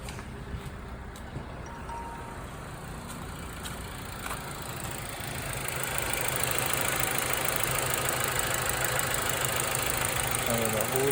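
A 2005 Mazda 3 2.3-liter four-cylinder idles steadily after a valve cover gasket replacement, a low continuous engine drone nearby that grows slightly louder partway through, with no talking over it.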